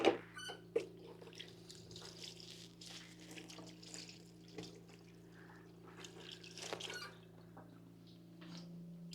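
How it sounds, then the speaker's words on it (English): Hands washed under running water at a kitchen sink, a faint trickle and patter with a few clinks at the start and soft splashes over a low background hum. "Let me throw this in the sink and wash my hands."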